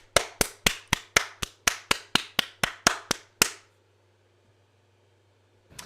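A short burst of hand clapping, about a dozen crisp, evenly spaced claps over roughly three and a half seconds, fairly close, then near silence with a faint low hum.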